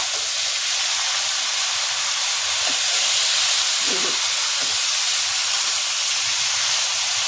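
Ridge gourd sabzi cooking covered on a high gas flame, giving a steady, even steamy hiss throughout with a faint soft thump near the middle.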